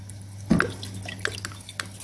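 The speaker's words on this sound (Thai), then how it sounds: "ใส่ซีอิ๊ว มันหอมดี" Soy sauce is poured into a pot of clear radish soup: a short liquid splash and trickle near the start, then faint drips and light kitchen clatter over a steady low hum.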